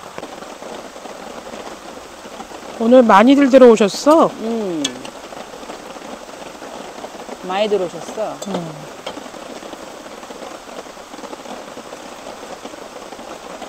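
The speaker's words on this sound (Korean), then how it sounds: "타프 밑에서 빗소리 너무 좋네." Steady autumn rain patters on a taut tarp over a forest campsite in a constant hiss, while people chat nearby in a couple of brief stretches.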